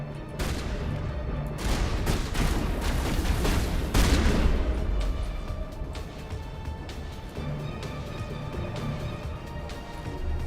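Shotgun fire in the sci-fi shooter game Mass Effect, dense overlapping blasts and booms layered over continuous combat noise, loudest in the first half and then settling into a steady rumble.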